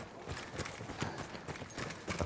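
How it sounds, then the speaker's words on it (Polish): Horse hooves clop on the right side in the video game Battlefield 1, a run of irregular close hoof beats over noisy battlefield ambience, moderately loud throughout. "mamy konia z prawej strony"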